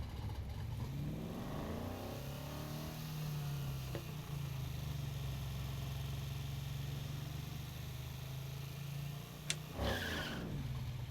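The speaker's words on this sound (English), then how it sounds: "you're starting your vehicle. So you're gonna have it at a low RPM." A car in the racing game Need for Speed Heat starts with a brief rising rev, then settles into a low, steady idle hum. It stays faint and alone, with a short whoosh near the end.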